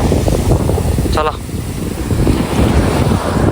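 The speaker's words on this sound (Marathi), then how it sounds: "फुल मोठी लाटी" Sea waves break against coastal rocks on the Konkan shore, a steady loud surf wash with wind buffeting the microphone, briefly dipping mid-clip before swelling again.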